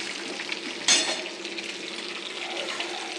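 Curry leaves and asafoetida tempering frying in a pan, a quiet, even sizzling hiss with one brief louder burst near the start, then steady sputtering.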